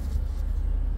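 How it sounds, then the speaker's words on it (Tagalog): Midea mini VRF concealed indoor air-conditioning unit fan running: a steady low broadband hum and whoosh, continuous and even, heard alone. "kung marinig nyo yung tunog ng fan"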